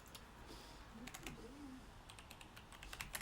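Computer keyboard typing comes in quiet clusters of rapid clicks, faint and slightly distant, with a brief low murmur partway through.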